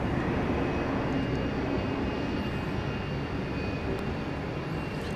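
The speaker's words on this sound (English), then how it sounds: "397 FlexJet going to Austin, Texas, an Embraer Phenom 300E" An Embraer Phenom 300E business jet departs Dallas Love Field, producing a broad, steady roar that stays loud and constant throughout, heard from outdoors with no talk.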